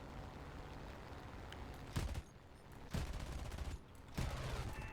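Yak-9U fighter cannon and machine guns firing in a flight combat game, heard as three short rattling bursts about a second apart over a continuous engine drone, fairly close and loud.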